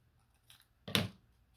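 Scissors make a single short snip through paper to cut the top off a piece for a junk journal, a quiet crisp cut lasting a fraction of a second with near-silence around it.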